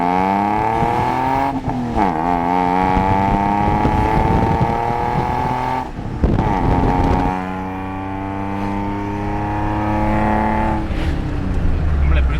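Maruti Alto car engine fitted with a new side exhaust, running steadily with a sustained harmonic drone that shifts pitch as it revs up and down, loud and close throughout with brief dips.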